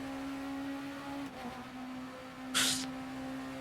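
Hypercar engine heard from outside in the RaceRoom racing game, a steady droning whine with a shift in pitch partway through and a sharp hissing burst near the end.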